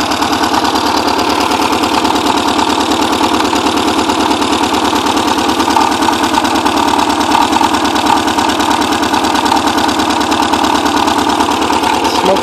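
A Porsche 944 that has sat for ten years runs at a rough, uneven idle, sputtering with a rapid, steady pulsing close by and loud throughout.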